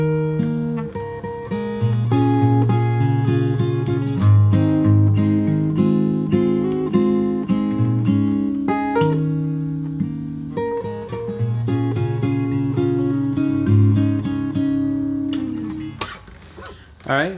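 Fingerstyle acoustic guitar plays the bridge of a song: picked melody notes ring over sustained bass tones in a steady, clear passage that ends with a brief strum.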